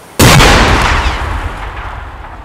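A sudden loud blast from a grenade explosion in the military game Arma 3 lands near its start, then a long rumbling roar decays over a couple of seconds without any talk.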